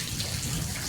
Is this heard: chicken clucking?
no